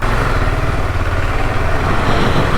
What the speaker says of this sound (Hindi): एटलीस्ट 2 मिनट तक कोल्ड स्टार्ट होना चाहिए बाइक का, क्योंकि हैवी इंजन है